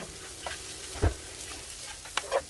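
Thai chili paste with shredded pork floss stir-fried in a pan, heard as a quiet, soft sizzle broken by a few sharp spatula scrapes and clanks against the pan, with no talking.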